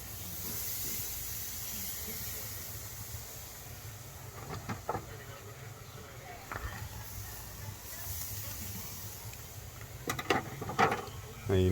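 Whole chicken and country-style ribs searing over hot coals on a Lone Star Grillz grill, producing a soft, continuous hiss with a few sharper crackles near the end, while someone talks over it.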